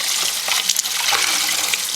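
Water gushes steadily into a lukewarm bath with a little liquid dish soap for rinsing dyed yarn, a loud continuous splashing pour that stays close and unbroken for two seconds.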